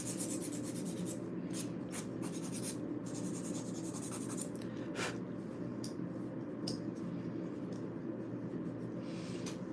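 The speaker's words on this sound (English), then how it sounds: "I'm gonna shape these up a little bit on the sides" A nail file rasps steadily along the sides of fingernails during a home manicure with dip powder, a continuous close scraping texture with no speech.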